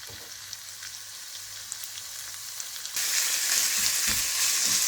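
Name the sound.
chicken breast pieces frying in vegetable oil in pan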